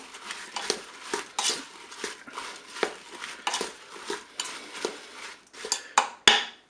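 Apples, orange pieces, sugar and water are stirred in a Cookeo pressure-cooker pot, producing repeated rhythmic scrapes and clinks of a spoon against the metal bowl, fairly close and with no talk.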